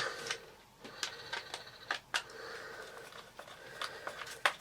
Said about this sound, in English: I'll put the last 2 screws in.